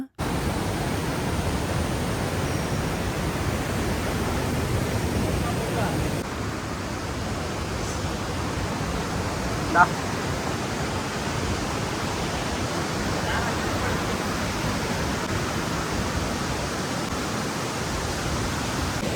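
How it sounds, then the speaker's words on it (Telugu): Strong, rain-swollen water flow at Araku rushes steadily and loudly throughout, a dense unbroken roar like a nearby waterfall or fast stream with no pauses. "మేము వెళ్ళే టైంకి వర్షం పడడం వల్ల వాటర్ ఫ్లో ఇంకా ఎక్కువ అయిపోయింది"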